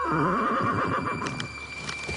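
A horse whinnies loudly and close, its wavering neigh rising and falling for about two seconds, followed by faint rustling.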